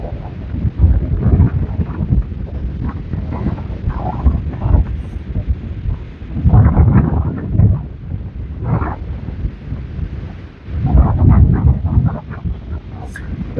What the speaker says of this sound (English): Kind of chilly out here, especially with the wind blowing like it does.